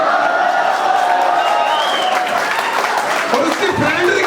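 Audience at a Hindi comedy poetry gathering clapping, a sustained, fairly loud spread of applause with some cheering mixed in, while a voice is heard speaking over it.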